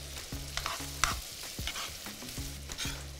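Garlic and grated carrot fry in a pan, a soft steady sizzle broken by repeated scrapes and knocks of a stirring utensil, with a low humming tone underneath and no talking.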